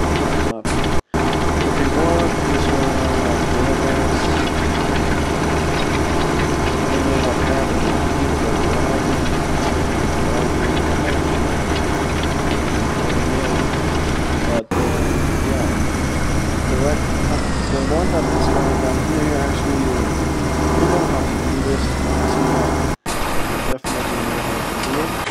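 Tractor engine in Farming Simulator 2017 runs as a steady, loud low drone for the whole stretch, with brief cut-outs and a shifting pitch partway through, and talk over it.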